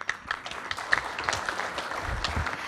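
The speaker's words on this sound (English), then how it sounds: "Please have a big round of applause for Dr. D.B. Fatak." An audience claps together in a brisk, steady burst of applause, moderately loud, with no talking over it.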